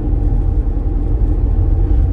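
An AMT car's engine hums steadily as it climbs a hill road in third gear, a constant low rumble of road and motor noise with no voices.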